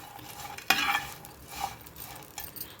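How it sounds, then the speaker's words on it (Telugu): Fried okra being stirred in a pan with curry leaves, a sharp scrape of the spoon followed by softer stirring scrapes over a light sizzle, close and alone. "ఇవన్నీ మంచిగా కలిసేలాగా కలుపుకోవాలి"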